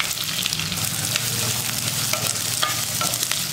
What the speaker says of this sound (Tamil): வெங்காயம் நல்லா ஒரு 2 நிமிஷம் வதங்கட்டும்